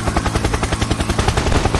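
A helicopter in a Fortnite-style mobile battle royale game chops loudly and close, a fast, even rotor pulse that continues throughout with no voices.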